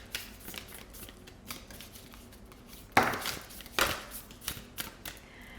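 Oracle cards being shuffled by hand in a quiet room, giving soft papery riffles with two sharper bursts partway through, fairly close and with no talking.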